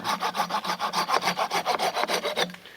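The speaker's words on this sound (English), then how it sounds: "then you just do your sawing here" A hand saw cuts through a tree branch in quick, even back-and-forth strokes, about a dozen rasping pulls close up, stopping abruptly near the end.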